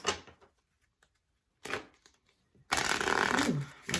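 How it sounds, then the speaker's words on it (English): Earth Magic oracle cards are handled and shuffled close by, with short papery riffles, a pause, then a longer loud continuous shuffle, and no talk over it. "Last set, we are going to pull 3 Earth Magic cards."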